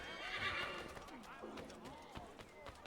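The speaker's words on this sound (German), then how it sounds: "Das Pferd kommt mir hier hinterher." A horse in the video game Assassin's Creed III whinnies loudly, followed by trotting hoof clops on city streets that fade into a lighter rhythmic patter.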